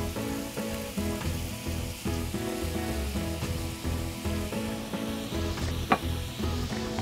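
Beach greens and quinoa sizzle steadily in a hot pan while being tossed and stirred, with continuous frying crackle and occasional scraping, close up.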